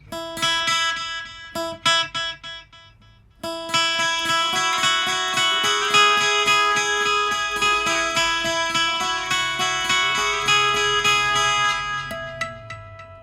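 Electric carbon fiber guitar through a HyVibe smart pickup, chords and picked notes ring out and repeat in trailing echoes, sustained and fairly loud, with no voices.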